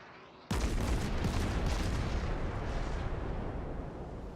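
Heavy naval guns fire from the cruiser Pensacola in a warship game, a sudden loud boom that leads into a long rumbling roar slowly tapering off.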